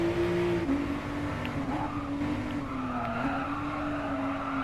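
Ford GT race car in Gran Turismo Sport braking hard into a corner, a steady high tire squeal riding over continuous engine roar throughout, loud and close with no talking.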